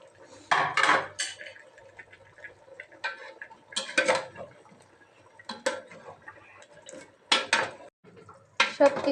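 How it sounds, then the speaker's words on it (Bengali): Beef curry ingredients, including potato and onion, stirred in a pot, giving intermittent metallic scrapes and clinks of a spoon against the pot in several short bursts, close and fairly clear with quiet pauses between. "সবকিছু দিয়ে ভালোভাবে নেড়ে দেওয়া হচ্ছে।"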